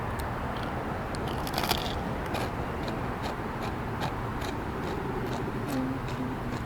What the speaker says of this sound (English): They're very crunchy.